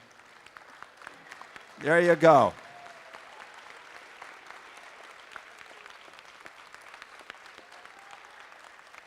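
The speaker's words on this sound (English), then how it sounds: "I want the students to all stand up and applaud and recognize your coaches and your" Brief burst of applause from students at a Philadelphia city qualifier, clapping for their coaches and mentors for about a second before fading to a quiet room hum, with a short spoken remark.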